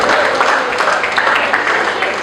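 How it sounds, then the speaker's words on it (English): Applause fills a graduate alumni convention hall, a dense, steady wash of many hands clapping at fairly loud level, with crowd noise mixed in throughout. "A round of applause. Let's put our hands together for ourselves."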